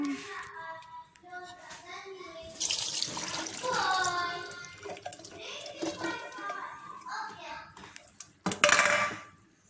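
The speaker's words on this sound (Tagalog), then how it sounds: "i-drain lang po natin yung ating red beans" Canned red beans being drained under running water at a kitchen sink while a salad is prepared, with steady splashing and dish clatter, a burst of louder pouring near the end, and a voice talking over it.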